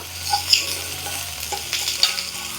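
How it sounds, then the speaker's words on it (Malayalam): Ginger and garlic sizzle in a pan while being stirred, with soft scraping strokes and faint crackling from frying close by, and no voices. "ആ ഇഞ്ചിയുടെയും വെളുത്തുള്ളിയുടെയും ആ ഒരു പച്ചച്ചുവ മാറുന്ന വരെ ഒന്ന് ഇളക്കി കൊടുക്കുക."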